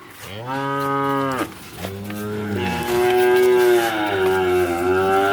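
A Holstein Friesian heifer mooing close by, a short moo followed by a long, drawn-out bellow that wavers in pitch, loud and clear with no talk.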